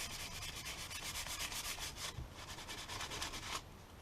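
Sandpaper rubs along a wooden axe handle being shaped from a board, making steady, rhythmic rasping strokes up close that continue for several seconds without pause or talk.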